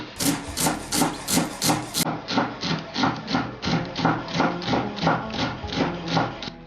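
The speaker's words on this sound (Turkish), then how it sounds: "Her zaman olduğu gibi saplarıyla çok ince şekilde maydanozu" A knife rocks steadily through parsley with its stems on a cutting board, even rhythmic close chops repeating about twice a second with no talk over them.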